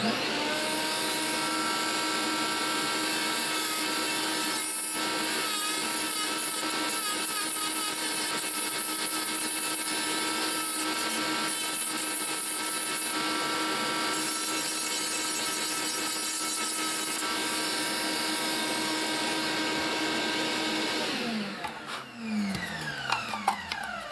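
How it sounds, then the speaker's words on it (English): A power tool runs steadily while chamfering the back edge of a scale-model bulkhead part for a Damnation Alley Landmaster build, a continuous high whine that holds for about twenty seconds before winding down near the end. "I'm going to chamfer the back of this guy."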